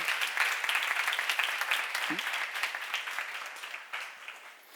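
A church congregation at a seminar claps together, a fairly faint, steady patter of many hands lasting a few seconds and slowly fading out.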